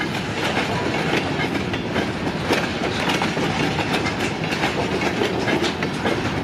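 A Duluth, Missabe and Iron Range Railroad train with ballast cars rolls past close by, a loud continuous rumble with rhythmic clickety-clack of wheels over rail joints.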